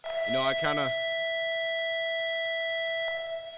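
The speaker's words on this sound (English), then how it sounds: "It's a lunch bell." A steady electronic school lunch bell rings continuously for about three seconds, starting under a brief voice and then sounding alone before cutting off.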